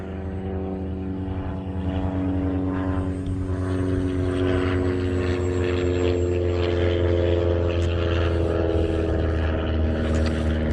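A ParkZone T-28 RC model airplane makes an inverted pass, its electric propeller droning steadily with a constant hum and airy whine at moderate distance, holding level throughout without talk.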